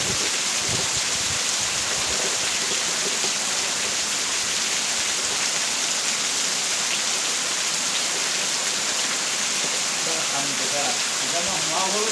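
Heavy rain in Pernambuco pours steadily, a dense, constant hiss of downpour at even loudness from start to finish.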